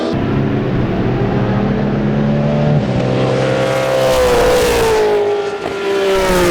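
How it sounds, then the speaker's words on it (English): Race cars including a Porsche racing at the CARCO.com.au Raceway in a WA Sporting Car Club event, loud engines roaring continuously nearby with pitch shifting as they rev, change gear and pass. "in his Porsche, in third position at the moment as they headed down into turn number 1, with Troy Wilson trying to stave off the at"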